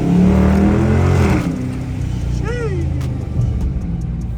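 A Dodge Charger R/T exhaust rumbles and burbles steadily up close on a snowy drive, with a brief whistling squeal partway through and a voice at the start.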